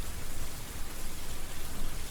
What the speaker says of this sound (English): So it's raining now.